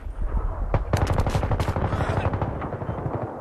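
Gunfire in Battlefield 3 on the Noshahr Canals map during team deathmatch: rapid automatic bursts, loud and close, rattling continuously with a few sharper shots punching through.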